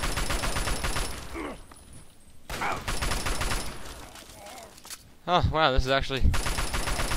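Assault rifle fire in Fallout 3 rattles out in rapid automatic bursts, with short gaps between volleys and a heavier burst near the end, while a person talks excitedly over it.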